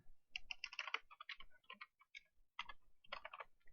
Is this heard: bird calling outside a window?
no